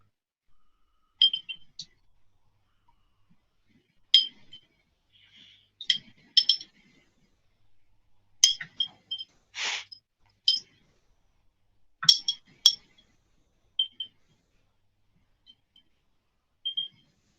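A glass jar of beans gives off sharp, bright clinks and taps in scattered small clusters, with quiet gaps between, and no voices.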